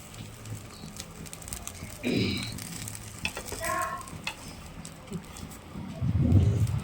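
A jowar dosa sizzling on a hot pan as it is flipped, with soft crackling frying under brief scraping and handling noises and a louder sizzling burst near the end, heard close.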